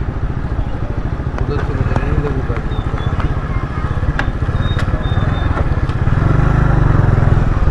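A motorcycle engine chugs steadily at close range as the bike moves through a narrow lane in a Godhra neighbourhood, its rhythmic putter swelling slightly louder near the end, with street noise around it.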